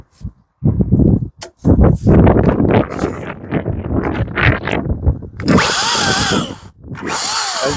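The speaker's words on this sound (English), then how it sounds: "we're going to make a couple cuts with it here just to show everybody what it's about" Makita XCU04PT1 36V (18V X2) LXT brushless 16-inch battery chainsaw cutting wood, heard close as a loud whining buzz in two sustained runs, preceded by clunks and handling noise.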